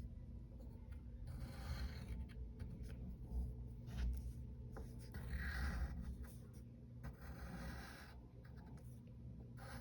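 A pencil draws lines on paper, sketching the umbrella of a cartoon cricket, with soft, steady scratchy strokes in a near, quiet room and a low background hum.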